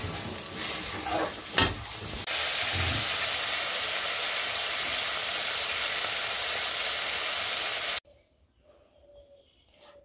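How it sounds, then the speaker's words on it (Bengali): Masala for potol chorchori stirring and sizzling loudly in a pan after a splash of water, a steady hissing fry after some clatter, cutting off abruptly to near silence. "আমি এখন সামান্য জল দিয়ে একটু নাড়াচাড়া করে নামিয়ে দেব"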